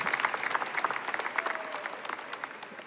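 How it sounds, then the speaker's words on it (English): A graduation audience applauds the band at a high school ceremony, a soft, distant spread of many hands clapping that slowly fades. "Can I get a round of applause for the band here"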